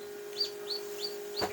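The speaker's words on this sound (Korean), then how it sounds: "소리가 삐약삐약 소리가 들리시나요?" A newly hatched silkie chick in an incubator gives four thin, high peeps at an even pace, quiet and close, with a low steady hum underneath.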